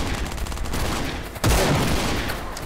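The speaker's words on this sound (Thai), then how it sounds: "ยิงไป ดูดิแต่ว่าปืนมันแรงมากอ่ะ" Rapid game gunfire from shooting zombies in the survival shooter Last Island of Survival, a dense crackle of shots that grows louder and heavier halfway through, with no talking.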